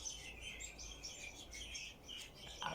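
Birds chirp and tweet outdoors in a steady, overlapping chorus of high calls that runs throughout at moderate distance, with no talking.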